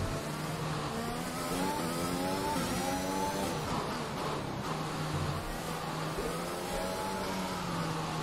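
An F1 2021 race car engine in-game on the Singapore street circuit, revving through rising and falling gear pitches as the car accelerates out of a corner, loud and continuous with no talking.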